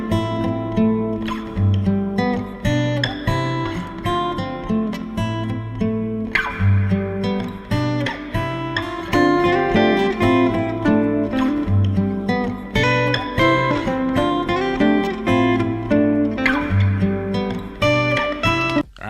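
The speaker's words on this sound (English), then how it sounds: "So here is the sound of the guitar first." A recorded guitar part plays back, its busy, repeating chord and bass pattern sounding full and steady at close range, with no talking over it.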